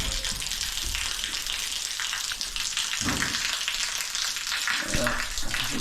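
Water drains out of opened steam boiler pipes during a repair, a constant hissing, splashing gush that runs without pause, with a couple of brief clanks along the way.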